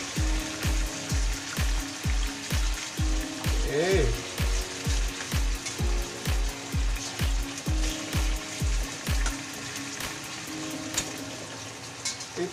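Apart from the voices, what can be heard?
pork frying in a pan for pork humba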